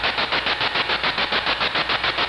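Spirit box radio sweep: continuous loud hissing static chopped into a fast, even pulsing rhythm as the scan steps through stations, close and unbroken throughout with no voices.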